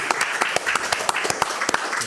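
A short burst of audience applause, scattered claps over a steady background of clapping from a small crowd.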